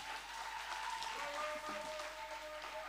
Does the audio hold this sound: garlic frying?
no